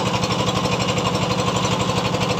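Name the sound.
trawler boat engine running on the Meghna river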